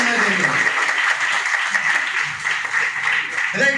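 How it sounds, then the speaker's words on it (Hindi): A training session audience claps, with continuous applause that is moderately loud and fairly steady, while a voice talks underneath. "जोरदार ताली होना चाहिए।"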